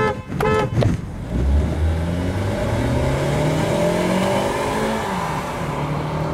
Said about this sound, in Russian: вот сейчас я в режиме спорт еду